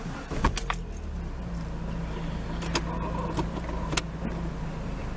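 A 2006 Chrysler PT Cruiser convertible starts up after keys jangle close by, its engine catching and settling into a steady idle.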